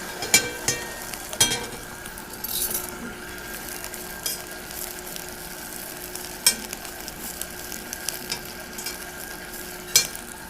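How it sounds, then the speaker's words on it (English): Kale getting a quick sauté in a heated pan, an even low sizzle under repeated stirring, with louder clinks and scrapes of utensil on pan spaced through the stretch and no speech. "So I'm going to go in with some of this kale first. And we're just giving this a quick little saute"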